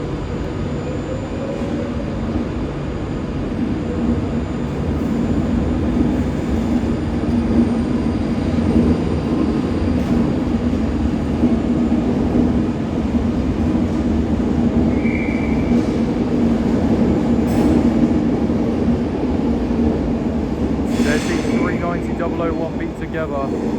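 A train pulls out of Glasgow Central bound for London Euston with a sustained rumbling roar of engine and wheels, loud and close, and a brief high squeal near the end.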